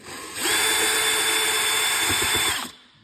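A power tool whines steadily for about two seconds while screws come out of a 2022 Ski-Doo snowmobile, ending in a short burst of rattling clicks before it stops.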